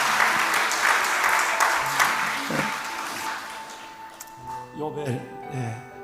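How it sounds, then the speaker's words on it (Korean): Congregation applause during a Sunday church service fills the first few seconds, then fades out as a voice begins speaking over a quieter room. "할아버지 할머니부터 먼저 박수."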